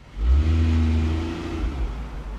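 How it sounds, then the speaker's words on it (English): Car driving past close by, engine noise swelling quickly and then fading gradually as it moves away, with no talk. "I believe there's a car behind me."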